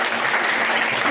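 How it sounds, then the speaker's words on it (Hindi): A school audience, mostly children at a traffic-safety class, claps in a dense, steady burst of loud applause with no speech. "आपके लिए जोरदार तालियां"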